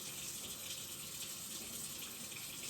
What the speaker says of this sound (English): you're going to want to get your hands into the water